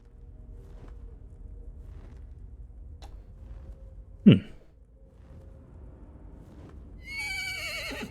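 Horse in The Elder Scrolls Online gives a single sharp neigh midway, with a faint clip-clop and ticking around it and a bright, shimmering game effect rising at the end.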